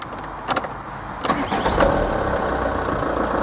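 A Renault Laguna diesel engine cranks briefly and catches, then settles into a steady, close idle that continues to the end.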